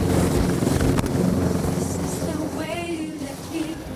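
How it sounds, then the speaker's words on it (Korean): A doctor air ambulance helicopter drones steadily with a broad rotor and engine roar, loud and continuous, with a faint voice briefly underneath. "닥터헬기의 소리가 시끄럽고 불편한 소리가 아니라 사람을 살리는 소리라고 생각해 보시면 어떨까요?"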